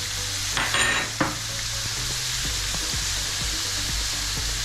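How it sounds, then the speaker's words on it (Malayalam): Sliced onions sizzle steadily in hot oil in a pan while being stirred for a chicken roast. A few scraping strokes of a spoon stand out early over the constant frying hiss, with no voices. "ഇനി നമുക്ക് സവോള ചേർത്ത് കൊടുക്കാം. നന്നായിട്ട് ഇളക്കി കൊടുക്കാം."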